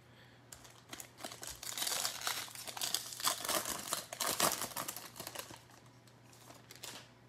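Plastic wrapper paper crinkles and crumples in close, busy bursts as Bowman baseball trading card packs are torn open, with no talking.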